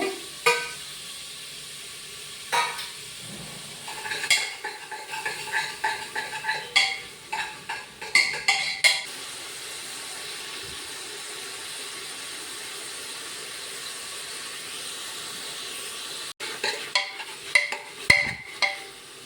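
Tomatoes go into a pan for mutton masala and sizzle steadily while a utensil stirs and scrapes in scattered clusters of clicks. The frying continues as a quiet hiss beneath.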